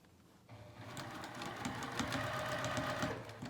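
Sewing machine back stitching a pajama pant seam, starting after a brief pause into a steady close mechanical whirr with rapid needle ticking, moderately quiet and continuous, with no talk.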